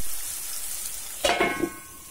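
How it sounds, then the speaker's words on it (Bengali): Long slices of boiled green banana hit hot oil in a pan, a sudden loud sizzle bursting up after a quiet moment and then settling into a softer fry. "এই কাঁচকলাটিকে লম্বা লম্বা কেটে নিয়েছি, এগুলোকে আমি ভাজা করব"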